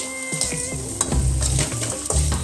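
Ingredients for a Tamil fish kulambu sizzle steadily in hot oil in a pan, with repeated stirring scrapes and knocks over the continuous frying hiss, close by and without talk.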